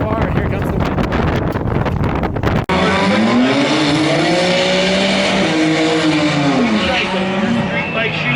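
A street tuner car roars through a loud, sustained drag race pass with a rising and falling engine note, wind buffeting the microphone and a crowd cheering in the background.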